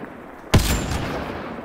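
A single sharp gunshot from a weapon in the game Mass Effect Andromeda, sudden and loud, followed by a lingering rumbling decay with no talk.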